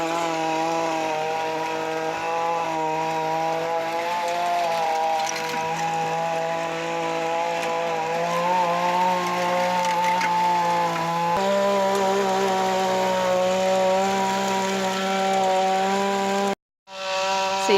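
A Ryobi chainsaw cuts wood outdoors while a garden bed is prepared for spring, its engine holding a loud, buzzing drone that shifts slightly in pitch as it bogs under load, then cuts out abruptly near the end; no talking.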